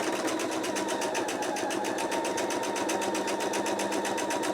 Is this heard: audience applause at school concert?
no